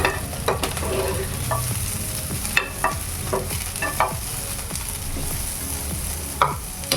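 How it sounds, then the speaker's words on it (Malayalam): Onion sautéing in an oiled pan: a steady close sizzle of frying with intermittent scraping and tapping of a stirring spoon against the pan, no voices. "നമ്മുടെ സവാള ഒന്ന് വഴണ്ട് വരട്ടെ കേട്ടോ"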